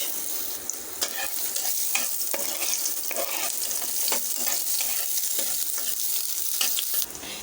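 Onion frying in oil in a pan on a home stove, sizzling steadily throughout with sharp scraping stir strokes from a utensil, close and fairly loud.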